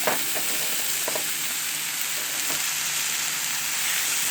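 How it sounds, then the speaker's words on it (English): Top sirloin steak sears on a Blackstone griddle with a steady, close sizzling hiss and a few faint scrapes, no voices. "You're going to sear it just a little bit on the side."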